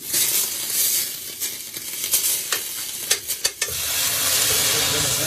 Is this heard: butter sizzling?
yes